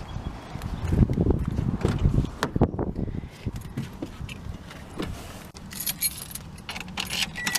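A car key jangles on its ring as it goes into the ignition of a Subaru BRZ, bright metallic rattles up close, with shuffling handling noises and a soft click between bursts.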